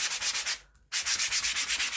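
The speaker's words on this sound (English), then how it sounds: "And I'm going to sand it again." Quick rhythmic back-and-forth strokes of sandpaper on a wooden door hanger, close and even, interrupted by one brief pause before the regular rubbing resumes.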